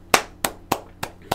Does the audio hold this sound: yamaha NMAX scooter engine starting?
no